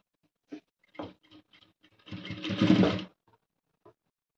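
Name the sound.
sewing machine stitching blouse fabric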